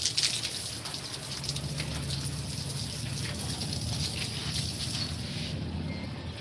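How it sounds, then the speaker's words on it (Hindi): Water is poured onto garden plants, giving a continuous close gushing splash that holds steady for several seconds before easing slightly at the end. "और मैं सिर्फ पानी डालूंगी।"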